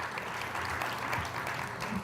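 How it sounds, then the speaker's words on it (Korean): Audience applause at a Korean seminar session in Pangyo, a steady wash of clapping from a crowd that holds for the whole stretch at moderate volume, with no talk over it. "박수 좀 쳐주세요"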